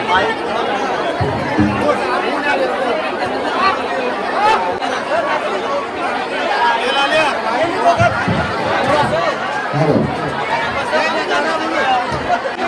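Dense crowd chatter fills a busy Shravan Monday temple festival, with many voices babbling together close and steady throughout, no single speaker standing out.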